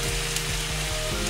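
Teriyaki sauce hits a pan of fried rice and sizzles loudly and evenly over a low, rhythmic hum, with no one talking.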